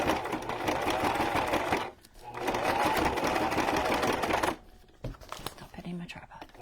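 A sewing machine stitches a farmhouse-style junk journal cover in two loud, close, rattling runs separated by a short pause, followed by quieter clicks and handling.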